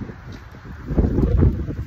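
Strong gusts buffet the microphone with a loud, rumbling roar that swells and surges for a couple of seconds.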